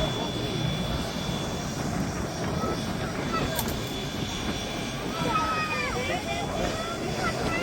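The piston engines of a B-17G Flying Fortress bomber drone at a Duxford summer air display, a steady, fairly faint rumble from a distance, with talk carrying over it throughout.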